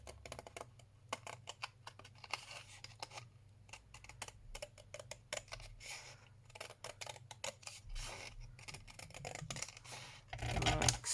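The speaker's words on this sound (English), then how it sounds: "So I'm going to trim down here because this is a nice thick piece" Scissors snip and scratch through thick card for a junk journal, a quiet close-up run of short irregular cuts and rustles, with a louder handling noise near the end.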